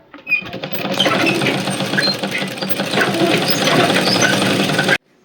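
A simple sewing machine stitches a picot edge on a saree, running in a loud, close, continuous rapid whir that starts abruptly and cuts off sharply after about five seconds.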